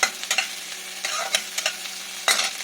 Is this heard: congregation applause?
no